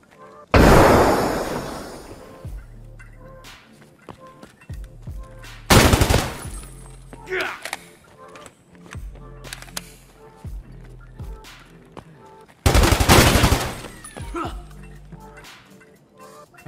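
Three loud bursts of automatic gunfire ring out a few seconds apart in Escape from Tarkov, with quieter game noises and a voice speaking in between.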